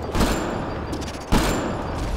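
Gunfire in the Mass Effect Andromeda video game: two loud shots about a second apart ring out over a dense, noisy game soundscape.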